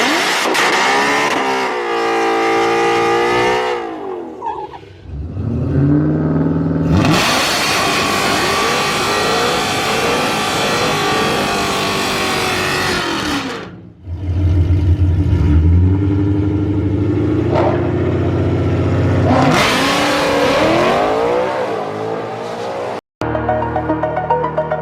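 Supercharged 2020 Ford Mustang GT500 drag cars of roughly 930 and 1100 wheel horsepower roar through repeated hard pulls, engines screaming up through the revs between brief pauses, loud and close with tire squeal.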